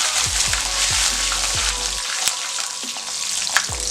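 Garlic, ginger and asafoetida sizzle and fry in a pan, a bright crackling hiss punctuated by several soft knocks as the ingredients are stirred or added, steady and close throughout.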